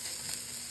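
Steady sizzling as browned beef goes into a hot pan for a casserole and is spread around, a continuous close frying hiss with no talk.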